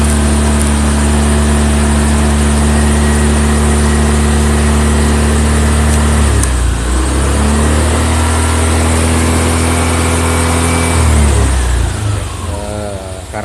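A Honda motorcycle engine runs steadily up close, its pitch dipping and rising as the revs change, then winding down near the end.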